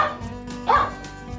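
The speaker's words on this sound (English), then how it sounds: "it was a dog" A single short dog bark, close and clear, sounding once over a faint background.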